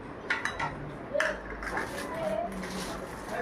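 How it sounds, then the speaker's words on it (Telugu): A plate is lifted out and set down on a kitchen counter while making a milk-bread sandwich with sauce and mayonnaise, giving a few close ceramic clinks and knocks over low room noise. "ఇప్పుడు ఒక ప్లేట్ తీసుకుందాం."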